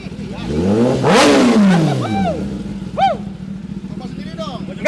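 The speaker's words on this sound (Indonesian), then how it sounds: "ZX10R. Suaranya kayak gimana?" A Kawasaki ZX-10R four-cylinder sport motorcycle revs loudly up close at a Mandalika track day, a sharp rising and falling roar followed by a few shorter throttle blips, with voices talking over it.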